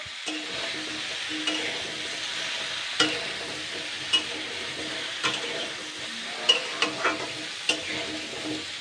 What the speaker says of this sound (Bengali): এটাও আমি দুই মিনিট মতন ভেজে নেবো